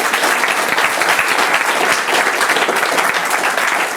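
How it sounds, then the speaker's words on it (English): An audience bursts into loud, sustained applause, dense clapping close and even for the whole stretch with no talk over it. "round of applause for both of these guys"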